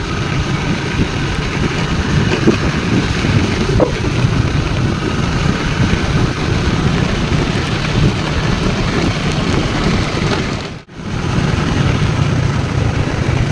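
Heavy rain pours steadily in the countryside, a dense, continuous hiss of downpour close by with a low rumble beneath and a brief dip near the end.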